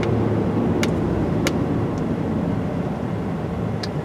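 Car on a road easing from about 35 mph down to 5 mph under moderate braking, with a steady loud road and engine rumble throughout and faint high squeaks now and then.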